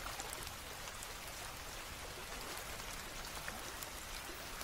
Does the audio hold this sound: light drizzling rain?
yes